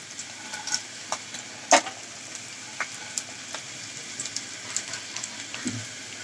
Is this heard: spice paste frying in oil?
yes